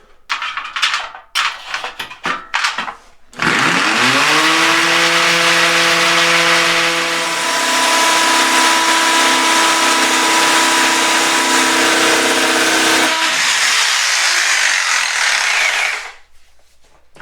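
A few sharp knocks come first, then a hammer drill spins up and grinds loudly through metal and mortar for about twelve seconds before winding down and stopping.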